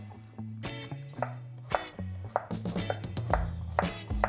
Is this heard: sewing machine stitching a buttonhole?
no